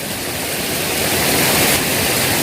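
Loud, steady rush of river water pouring through a breached dam of stacked stones, a dense broadband roar that swells slightly midway and continues without a break, close by and with no voices.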